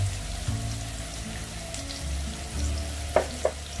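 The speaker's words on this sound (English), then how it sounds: "Now our oil is nicely hot. I'm adding onion." Onion frying in hot olive oil for a red sauce penne arrabbiata, a steady close sizzle throughout, with a couple of sharp clinks near the end and no one talking.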